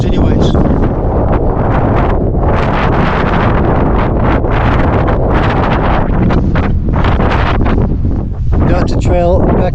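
Strong gusts buffet the microphone on an exposed rock shelf of Mt Anne in Tasmania, a loud, constant roaring rush with no letup, and a voice speaks briefly beneath it.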